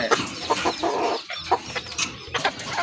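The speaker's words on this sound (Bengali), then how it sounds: "এখানে দুইটা হচ্ছে আপনার মোরগ, একটা হচ্ছে মুরগি।" Chickens, two roosters and a hen, cluck close by in a run of short repeated calls with brief pauses, busy and fairly loud with no talking.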